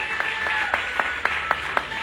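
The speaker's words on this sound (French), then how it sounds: "je vous demande de les applaudir encore une fois" An audience at the Miss World grand final claps in a steady, even rhythm, sharp claps about every quarter second over a continuous crowd wash, moderately loud and without voices.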